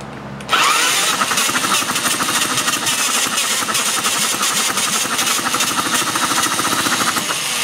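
Mini Hog 69 minibike engine firing on only one of its two cylinders, catching abruptly and then running loud and near with a rough, uneven, pulsing beat.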